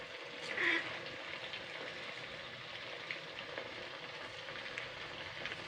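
Suji snack pieces dropped into hot, bubbling oil give a soft, steady sizzle that stays fairly faint and continuous, with one brief louder spatter early on.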